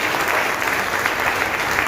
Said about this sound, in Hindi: एक बार जोरदार ताली हो।